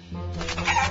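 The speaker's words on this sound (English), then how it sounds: "clucking! Maybe it's Chickaletta!" Cartoon chicken clucking in a Paw Patrol video game, a brief close burst of clucks over background game music.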